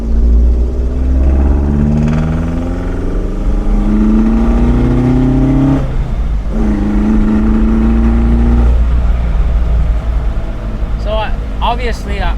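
Alfa Romeo 1750 GTV engine accelerating through gears from on board, loud rising pitch sweeps broken by shift pauses, then a voice speaks near the end.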